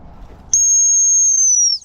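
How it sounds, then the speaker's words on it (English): A dog-training sit whistle gives one long, steady, piercing note lasting just over a second, loud and close, after a moment of faint background noise. "So if I blow this whistle and he sits straight away,"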